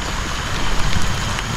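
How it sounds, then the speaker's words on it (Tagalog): Heavy rain pours down steadily at night outdoors, a dense, continuous hiss with low rumbling patter that stays loud and even throughout, with no voices. "Malakas yung ulan."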